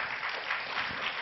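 Brief applause for a speaker at a French talk on nutrition, a steady wash of many hands clapping at moderate volume, heard only for a moment.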